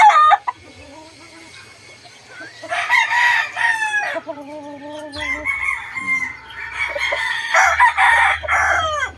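Banded gamefowl roosters crow repeatedly in loud, drawn-out calls, with chickens clucking nearby in between. The birds sound close and carry on without any talk.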